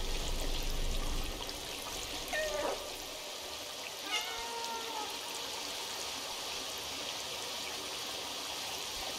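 A cat meows twice in the video game Stray, short rising calls a couple of seconds apart, set over a steady backdrop of running water in a cyberpunk city.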